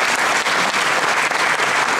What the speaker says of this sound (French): Ah, on peut l'applaudir.